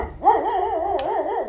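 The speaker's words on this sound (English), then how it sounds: "There are presumably guard dogs." Dog barking and howling on a hiking route in La Palma, presumably a guard dog: one wavering, drawn-out howl-like bark held for over a second at moderate distance, no talk over it.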